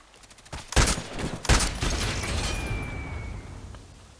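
Gunfire in the Contract Wars shooter game: two loud, close shots about a second apart, followed by a long echoing decay with a faint mechanical rattle.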